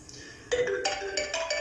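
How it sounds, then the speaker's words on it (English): An original iPhone rings with an incoming call, a bright melodic ringtone starting half a second in and repeating its short phrase several times, clear and fairly close. "I got a phone call coming in."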